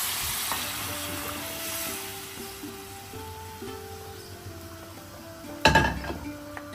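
Goat trotters fry with spices in a pot, giving a soft, steady sizzle with occasional clinks of a utensil against the pot and a louder burst of stirring near the end.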